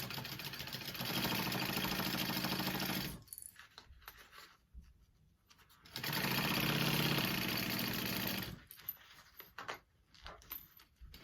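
A sewing machine stitches mini backpack pieces together in two close, steady whirring runs of about three seconds each, separated by a quieter pause with faint handling noises.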